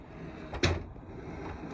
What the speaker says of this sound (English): So you just unsnap one, then the other.